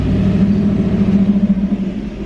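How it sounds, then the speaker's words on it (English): An old-timey car passes by with a steady, low engine rumble that swells slightly and then eases, fairly close, with no talking. "Look at that little old-timey car."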